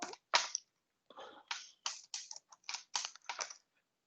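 Quick keystrokes on a computer keyboard enter a short Linux terminal command, about a dozen crisp, close taps in an uneven burst against an otherwise silent background.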